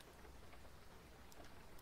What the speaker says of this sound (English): Especially when we can hear the rain outside too.